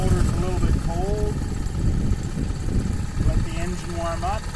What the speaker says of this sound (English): Let the engine warm up. You'll hear the revolutions of the engine increase.